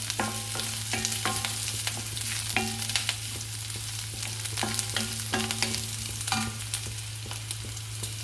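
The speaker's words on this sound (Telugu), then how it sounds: "కొద్దిగా పచ్చిమిర్చి ఫ్రై అయిన తర్వాత కరివేపాకు వేసుకుంటాం." Green chillies and curry leaves sizzle steadily in hot oil in a home kitchen pan, with repeated metallic clinks of a spatula stirring throughout, no talking.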